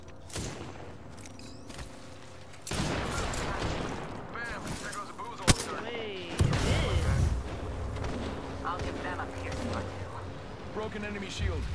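Gunfire rattles through a team shooter video game match. Bursts and single shots sit among game effects and music, with a loud crack near the middle, while in-game voice callouts play throughout.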